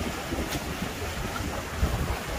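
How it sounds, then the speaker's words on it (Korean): Ocean waves wash against the shore at a sea fishing spot in Jumunjin, Gangneung, a steady broadband rush with wind buffeting the microphone, fairly faint and continuous with no talking. "파도가 무서워요?"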